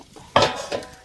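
A metal pot clanks once as it is picked up and set down, followed by a lighter knock; close by, with no talking.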